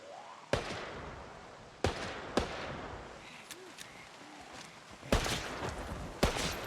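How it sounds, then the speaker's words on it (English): A gun fired in the zombie-survival video game Project Zomboid, about six sharp, loud single shots spaced irregularly, each with a short ringing tail over a low background. "I think this would be a good time to test out my gun, actually."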